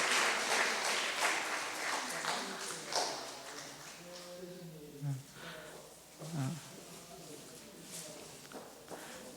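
A church congregation at a Sunday service applauds to welcome a baby after infant baptism, with warm, moderately loud clapping that gradually thins out while voices murmur underneath.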